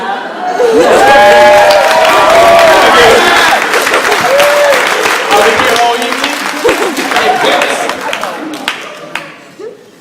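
Wedding guests clapping loudly and steadily, a dense burst of applause that fills the room and then slowly thins out, with cheers and someone talking over it.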